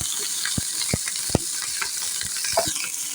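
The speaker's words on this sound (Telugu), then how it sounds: "ఇప్పుడు అటు ఇటు తిప్పుకుంటూ చక్కగా ఫ్రై చేసుకోవాలి." Chopped onions and curry leaves frying in a pan, a loud continuous sizzle broken by repeated scraping stirs of a spoon, heard up close with no talking.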